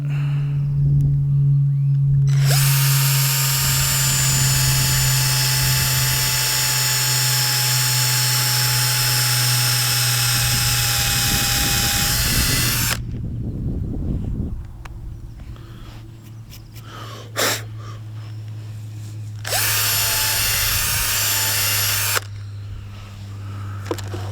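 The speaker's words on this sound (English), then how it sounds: "drill a hole" A loud, steady high-pitched drill whine as a drill bores a hole in a log, running continuously for several seconds, briefly cutting out, then resuming in two more bursts, with no talking.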